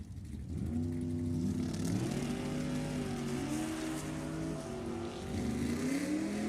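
A drag racing dragster accelerates hard off the starting line, its engine a loud rising roar with climbing, shifting tones that holds steady throughout, with no talk over it.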